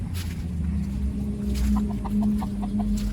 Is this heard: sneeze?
no